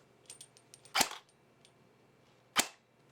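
A Valken airsoft battle rifle with an upgraded gearbox fires two sharp, separate shots about a second and a half apart, each a crisp snap over faint background clicks and a low hum.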